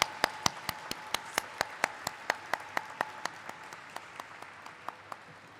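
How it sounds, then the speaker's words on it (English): At a stock market listing ceremony for Canara HSBC Life Insurance Company Limited, a thin, quiet round of applause sounds as a handful of sharp, distinct claps in a steady rhythm that gradually softens. "we welcome today's ceremony with a huge round of applause for Canara HSBC Life"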